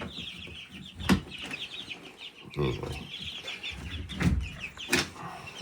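Backyard chickens cluck repeatedly at close range, with a few sharper bursts standing out over a busy outdoor farmyard background; a person speaks one brief word.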